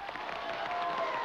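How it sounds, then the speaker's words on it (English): Cartoon applause from a crowd fills the moment, a dense, steady wash of clapping heard briefly and at moderate loudness with no clear talking over it. "Can't you hear that applause?"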